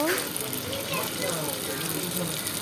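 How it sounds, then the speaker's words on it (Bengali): Meat-filled rolls fry in hot oil, two at a time, with a steady, close, crackling sizzle that holds evenly throughout. "আমি দশ মিনিট রাখার পর তেলের মধ্যে এখন ভেজে নিব দুটো দুটো করে নিব"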